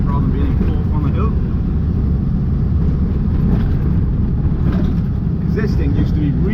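A slammed 1965 VW Beetle with an air-cooled engine drives uphill, its loud, steady low rumble and drone running unbroken and close throughout, with a voice talking over it.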